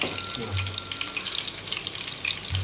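Onion fries in hot oil with a steady, close sizzle and faint watery crackle, while a low voice murmurs now and then under the frying.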